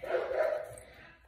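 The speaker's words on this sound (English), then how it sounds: "My dogs are acting up." Dogs barking indoors, a short burst of yapping that fades over about a second, fairly loud at first and then tapering off.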